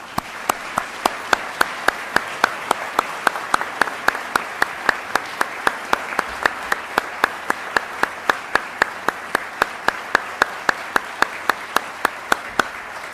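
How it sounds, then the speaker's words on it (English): Audience applause at a US Army Financial Management Command change of command ceremony, steady sustained clapping from a crowd, evenly loud throughout with no speech. "I'd ask that everybody please give me a big round of applause"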